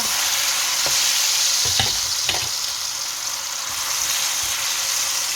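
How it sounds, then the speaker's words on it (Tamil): Steady, loud sizzling of food frying in hot oil, with a few brief clinks and stirring knocks over the continuous hiss. "எல்லாத்தையும் பொன்னுரமாக வர பொரிச்செடுப்பேன்"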